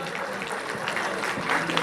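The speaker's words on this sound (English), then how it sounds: "We request you to greet them with a huge round of applause." Brief burst of audience applause greeting guests at a school annual day function, a dense wash of clapping with no pause.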